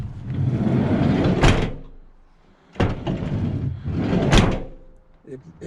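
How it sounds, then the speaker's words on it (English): Doors on a Peugeot Expert van are shut and opened with loud banging thuds, two main slams with the loose panel rattling and vibrating between them, close and loud. "When you shut these doors and open these doors, they make a racket."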